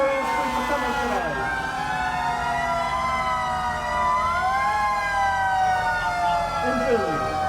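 A fire engine's siren wails and sweeps in pitch through a town square during a Santa parade in Merrimac, Massachusetts, loud and continuous, with a truck engine rumbling beneath it.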